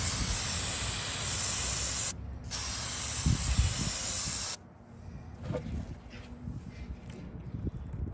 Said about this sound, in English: I'm going to try some of the carburetor parts cleaner as well.